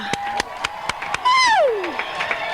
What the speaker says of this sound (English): Let's hear one applause for yourself before we start.